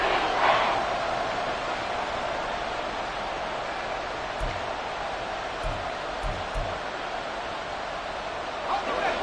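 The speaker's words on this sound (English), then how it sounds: "The Arrowhead crowd in full roar." A packed Arrowhead Stadium crowd at a Chiefs–Dolphins football game roars in a dense, sustained wash of noise in the final seconds of the game, steady and distant-sounding with only small swells.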